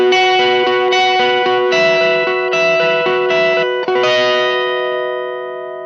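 Electric guitar chords played high on the neck through a distortion pedal, several sustained strums in a row ringing out loud and saturated, with the last chord fading away.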